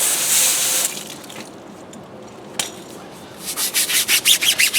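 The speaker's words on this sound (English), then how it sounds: "then I take my brush and simply agitate it" A brush scrubs a rubber tire coated in foamy super degreaser cleaner, starting with a wet hiss. Then come brisk, rhythmic back-and-forth scrubbing strokes, close and loud, with no talking.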